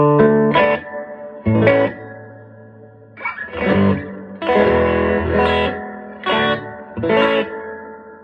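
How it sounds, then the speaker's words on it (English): Electric guitar chords played through an amp with heavy reverb, from a Danelectro DM25 guitar with DiPinto Galaxie 2 pickups, each strum ringing out into a long, washy echoing tail before the next. "Let's crank the reverb up"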